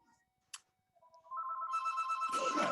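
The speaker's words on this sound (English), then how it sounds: "Well, you better get the phone." A telephone rings in a quiet room, a faint click and tone giving way to a steady electronic ringtone that grows louder and fuller, with no voices over it.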